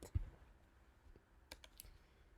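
Scattered keystrokes click sparsely and faintly on a computer keyboard, a few separate taps spread over a couple of seconds against a quiet background.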